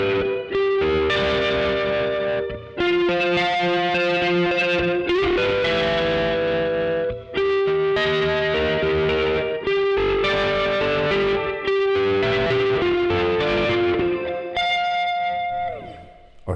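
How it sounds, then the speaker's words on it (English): An electric guitar on the neck pickup, volume rolled back, plays through the rotary effect of a Keeley Supermod Workstation pedal with heavy reverb. Sustained, swirling chords and notes ring out loud and continuous, with brief dips between phrases. "it's just a really lovely rotary."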